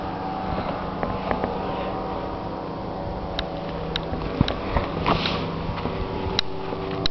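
An ultralight aircraft with a twin-carb Rotax 503 engine and three-bladed wooden prop drones steadily at a distance, a continuous mid-pitched buzz with faint clicks and rustles nearby.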